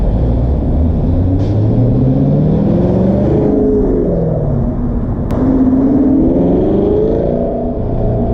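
An unplated car drives steadily with a loud, continuous engine rumble and slowly shifting pitch as it turns and accelerates, no voices over it.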